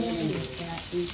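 Shrimp frying in hot oil give a steady close sizzle with sharp pops and spatters from water in the pan, and a faint voice hums along underneath.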